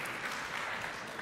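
An audience at a live science show claps for a guest professor walking on stage, a steady dense wash of applause throughout, with no voices.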